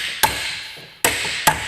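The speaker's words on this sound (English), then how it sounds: "so you just take a hammer" Three sharp hammer taps drive a brake part into place after a rubber piece is fitted, each strike a crisp close metallic knock with short ringing decay, spaced unevenly.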